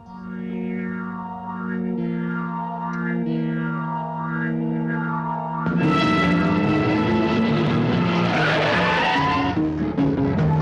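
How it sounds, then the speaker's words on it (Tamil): Car being turned and driven fast in a film scene, with a rising engine roar and tire noise that swell loud and close after a stretch of tonal background music. "வண்டியை திருப்புமா"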